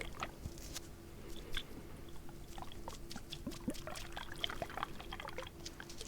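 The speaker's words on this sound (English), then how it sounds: "A is the water kind of just swirling around" Water swirls and trickles softly in a close, quiet ASMR trigger recording, with small wet clicks, bubbly drips and crackles scattered steadily across a faint background.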